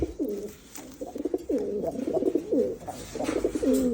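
Pigeons in a loft coo in repeated, rolling phrases, close and clear, one call following another with short pauses between.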